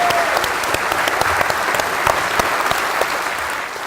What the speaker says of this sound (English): give him a big round of applause. Big round of applause to Gavin.